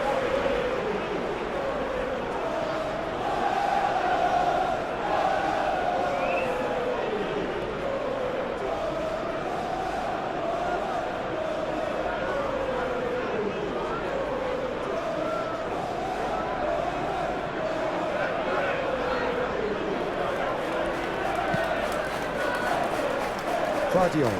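A steady, dense stadium crowd roar from the football game PES 21, during a Premier League match between Manchester City and Bournemouth. It swells and eases gently throughout, with no clear voices on top.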